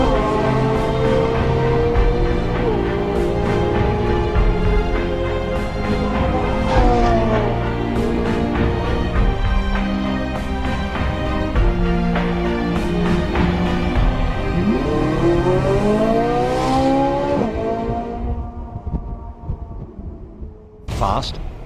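A Ferrari 458 Italia's engine roars loudly and continuously, rising and falling through repeated upshifts as the car accelerates hard, with sharp pops between gears before it fades toward the end.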